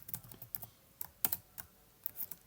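Computer keyboard keys clack while a Node.js console command is typed, a quick uneven run of close, crisp keystrokes with brief pauses between bursts, no talking.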